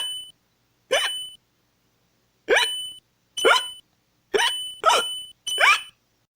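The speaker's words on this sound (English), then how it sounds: "Apparently you'll die if you hiccup 100 times." A voice performs six sharp hiccups in an animated comic dub. They come as separate short squeaky gulps, isolated at first and then in a quicker cluster, close and loud against silence.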